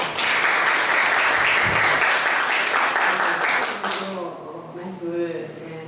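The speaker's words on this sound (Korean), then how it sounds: "축하드리면서 박수를 먼저 한번 보내드리겠습니다" Audience applause fills a church ordination service for a pastor, missionary and evangelist, loud and sustained for about four seconds before thinning out, with a voice beginning to speak near the end.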